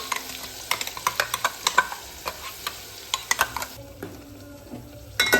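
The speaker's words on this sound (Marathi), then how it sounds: "आता मगाशी वाट केलेलं हे वाटण सगळं टाकून घ्यायचं आणि तेलामध्ये चांगलं परतून घ्यायचं" Ground masala paste sautéed in hot oil with curry leaves, cumin and mustard in the pan: repeated sharp scraping strokes of a spoon against the pan over a soft sizzle, close and fairly quiet, without talk.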